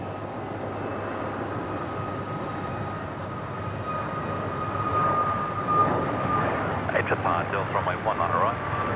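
Fiji Airways Boeing 737 MAX 8 jet taking off from runway 19 left at Brisbane, a broad steady engine roar from a distance that swells in the second half, with a person talking intermittently over it.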